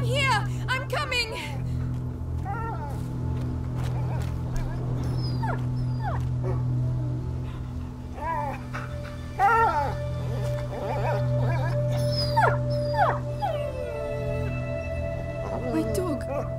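A dog whimpers and yips in the video game A Plague Tale: Innocence, repeated short high cries scattered over a steady low background drone, near and fairly soft.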